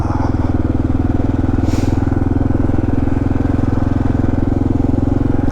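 A Kawasaki KLR650 single-cylinder dual-sport motorcycle is ridden off-road through woods near Sam Rayburn in Broaddus, Texas, its engine a close, steady, throbbing drone that holds an even pulse throughout.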